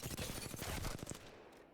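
Rapid automatic gunfire in Apex Legends rings out against a target dummy as a loud, dense burst of shots lasting about a second, then cuts off and fades into a short tail.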